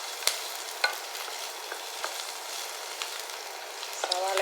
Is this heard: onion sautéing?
yes